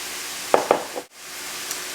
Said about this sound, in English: while it's searing